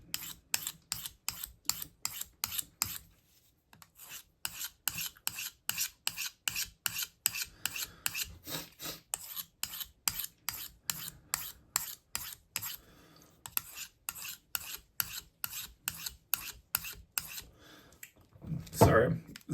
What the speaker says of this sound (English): this is pretty much the only sharpener you'll catch me using at shows